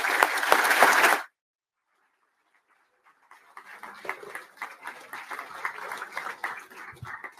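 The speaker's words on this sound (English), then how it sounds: "So give them a round of applause, please." A burst of conference keynote crowd applause ends abruptly after a second, followed by silence, then a second stretch of scattered clapping and cheering rises and continues.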